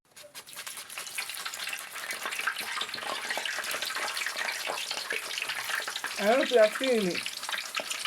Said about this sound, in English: while slicing plantain direct inside the oil